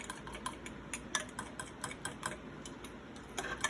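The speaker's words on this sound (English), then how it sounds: "I'm going to give this a quick stir" Quick stirring of eggs and cheese in a bowl, a utensil ticking and scraping against the side in a fast, even rhythm of light clinks, close and fairly quiet.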